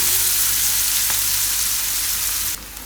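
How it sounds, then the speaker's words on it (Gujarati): Chopped onions fry in an oiled pan with a loud, steady, close sizzle that drops slightly in intensity near the end. "તો ડુંગળીને થોડીક વાર આપણે આમાં પકાવી લઈએ, એકાદ મિનિટ માટે."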